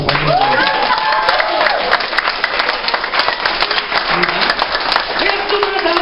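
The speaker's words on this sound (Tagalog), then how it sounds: "Ano tayong palakpak nyo sa Panginoon?" A congregation at an El Shaddai mission gathering in Kuwait claps loudly and continuously, with shouts and voices rising over the applause.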